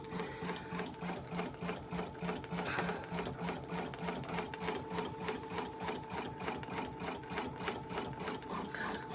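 A Babylock embroidery machine stitches a built-in Halloween design, making a steady, rapid mechanical chatter with an even rhythm and a faint hum, quiet and close, with no voices.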